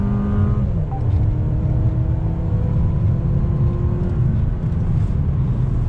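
A 2020 Mercedes-Benz GLB 250 engine pulls steadily as the driver gets back on the throttle, a constant near road and engine drone with a low rising tone and no talking.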